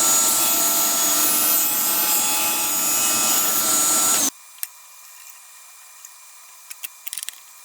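Wood pieces for a gym chalk tray stand are cut with a loud, steady, whirring power-cutting noise for about four seconds, then it stops abruptly, leaving near silence with a few faint clicks.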